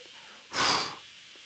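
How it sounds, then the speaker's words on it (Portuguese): A single forceful puff of air blown out by a person, a short breathy burst lasting about half a second, close and fairly loud against a quiet background. "Então, a qualquer momento da respiração, eu consigo assoprar."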